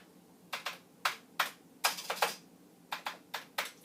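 Fingers type on a Commodore VIC-20 keyboard, giving close, crisp key clicks in irregular bursts of one to three strokes, about a dozen in all, against a quiet background.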